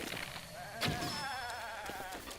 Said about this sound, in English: I've just killed an evil goat.